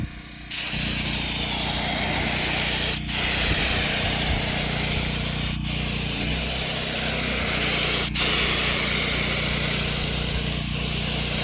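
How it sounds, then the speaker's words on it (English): Close, steady broadband hiss of a spray gun applying paint to a Humvee H1 hood, running nearly continuously with brief cutoffs roughly every two and a half seconds as the trigger is released between passes. "Let's get the spray gun and start painting."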